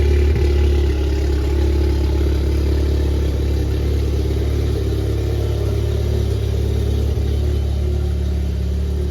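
An MK7 VW Golf R engine runs at a steady low drone while the car pulls out, close and loud with little change in pitch and no talk.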